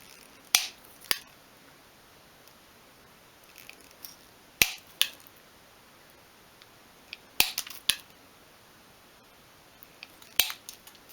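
Cutting a mirrored sheet into small pieces with scissors, giving sharp, separate snipping cracks in small pairs and clusters, spaced a few seconds apart, close against a quiet background.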